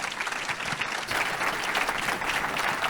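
An audience at a food-systems panel discussion applauds the panelists, a continuous wash of many hands clapping at steady volume for the whole stretch, with no talk over it.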